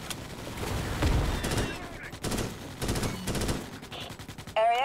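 Rifle gunfire in the sci-fi shooter Starship Troopers: Extermination, with loud rapid bursts that rattle out in several volleys and short gaps between them, and a faint voice underneath.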